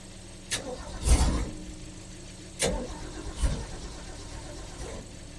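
A car engine fitted with a Chinese carburetor idles roughly, with several uneven surges and bursts of revving over a low running rumble.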